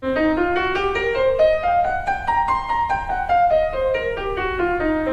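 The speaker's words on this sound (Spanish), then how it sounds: "Esa es la escala blues" A single melodic instrument runs up a blues scale note by note and back down again, clear and close, with no talking.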